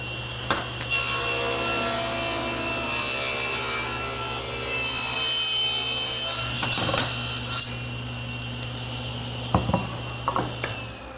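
A table saw rips a narrow wood strip held against the fence, a sustained high whine of the blade cutting through the board for several seconds, then scraping, knocks and handling noises as the piece comes free.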